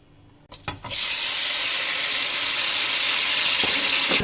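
A kitchen range hood fan switches on after a brief rustle and then runs as a loud, steady broadband whoosh with a hissing edge, continuous and unbroken while a tomato and onion base cooks beneath it.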